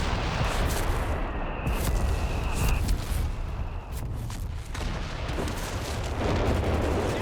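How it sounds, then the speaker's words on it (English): Artillery barrage in Company of Heroes 3, dense rumbling booms and blasts forming a constant loud wall of battle noise with no clear pauses. "Captain Artillery brought down on the machine gun."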